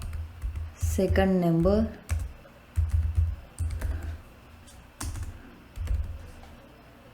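Keystrokes tap on a computer keyboard in short uneven bursts, close and fairly soft, while someone speaks briefly near the start.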